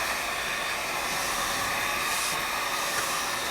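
A hair dryer blows a steady, loud, close rushing hiss over a cleaned leather car seat bolster during an automotive leather repair, continuous with no talk.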